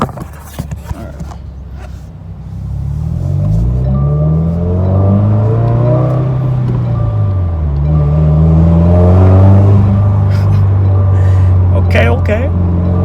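A Subaru WRX with a Remark non-resonated midpipe and Remark axle-back exhaust revs up through rising and falling engine sweeps, loud and close, while people talk over the sound.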